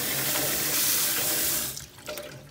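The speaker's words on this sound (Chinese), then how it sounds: "我们稍微再给它洗一下" Running tap water splashes steadily over a raw beef heart being rinsed in a kitchen sink, a continuous broad hiss that thins out near the end as the flow is interrupted.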